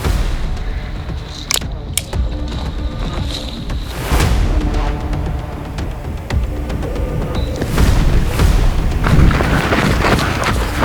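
An airsoft grenade bursts during an outdoor airsoft battle royale game, a loud booming thud standing out against constant wind and movement noise, with further bangs and rustling following.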